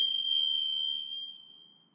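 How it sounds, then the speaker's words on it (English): One bell strike marking a break in a podcast, a bright clear ding that rings out alone and slowly fades away over about two seconds. "That bell was just to alert you that we're going to take a quick break"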